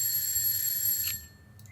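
A doorbell rung in a Czech-language video game, a bright metallic electric bell ringing steadily for about a second before cutting off abruptly, with a faint trailing chime and no voices.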